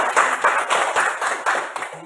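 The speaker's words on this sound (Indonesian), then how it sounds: "Makanya tepuk tangan dulu" A small group of people, a classroom discussion group, clap their hands together in a steady, moderately loud burst of applause with rhythmic beats, no voices.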